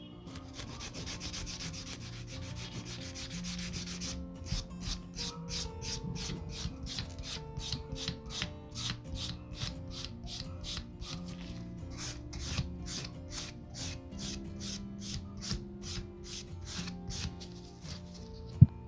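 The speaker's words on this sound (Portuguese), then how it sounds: "agora nós vamos polir para poder finalizar com o top coat" A file polishes a polygel nail in quick, even back-and-forth rubbing strokes, close and soft, keeping a steady rhythm for nearly twenty seconds with a faster burst of scraping at the start.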